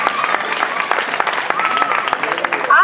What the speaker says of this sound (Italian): Un applauso ad Alba